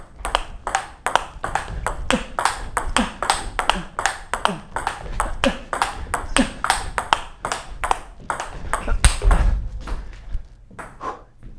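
A table tennis ball strikes a Tibhar Evolution EL-S rubber again and again in a quick, steady rally of sharp, bright pings with faint thumps, close and clear with no talking.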